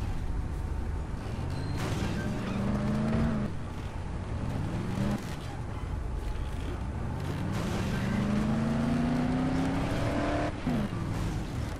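Engine noise from a car in the video game Dead Island, revving and shifting pitch repeatedly as it drives and crashes, with loud rising engine whines broken up by abrupt impacts over nearly twelve seconds.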